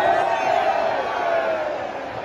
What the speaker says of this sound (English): The crowd's loud because of the Mexican wave.